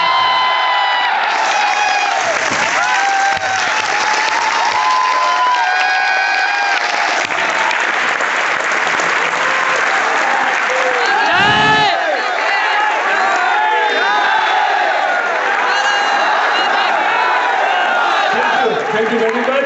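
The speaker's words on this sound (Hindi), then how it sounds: "आइए सर, जोरदार तालियों के साथ" A large crowd claps and cheers loudly and continuously, with whoops and shouts rising over the steady roar of applause.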